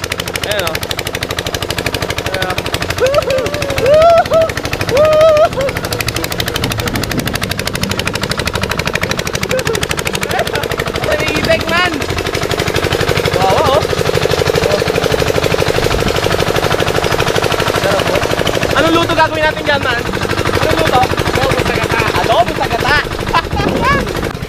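A noisy engine-driven water pump runs steadily at a farm bathing spot, its loud rapid mechanical chugging continuous throughout, with voices and other activity faintly mixed in.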